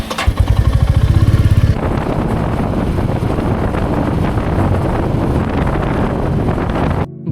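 A motorbike rides out in cold early-morning air, its engine thumping near at first before loud rushing wind buffets the microphone steadily as the ride continues.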